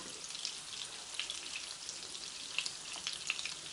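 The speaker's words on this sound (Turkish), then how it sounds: "Salçamızı kavuralım." A spoonful of tomato paste fries in melted butter in a pan, a soft, faint crackling sizzle with scattered small pops, steady and quiet throughout.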